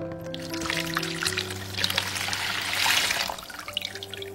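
Water pours steadily into a large basin being filled to soak vegetables, a close, continuous splashing trickle with a louder gush near the middle and no talking.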